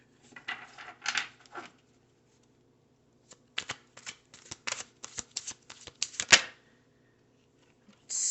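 Stiff, new tarot cards are shuffled close by in several bursts of crisp riffling and flicking with short pauses between them, the longest run near the middle, and no voices.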